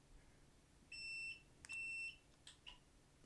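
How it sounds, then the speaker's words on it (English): A Solax Transformer scooter's controller, fault-locked with stuck RAM, gives two clear electronic beeps in sequence, each lasting about a third of a second, followed by a couple of faint clicks in a quiet room. "It'll beep there, so controller's beeping at me"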